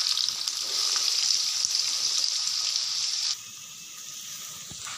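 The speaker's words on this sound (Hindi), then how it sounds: "प्याज डालने के बाद हम करेंगे इनको अच्छे से फ्राई" Onions dropped into a cup of hot oil in a kadhai for biryani, a loud bright sizzle that drops abruptly to a quieter steady frying hiss partway through, with no talking.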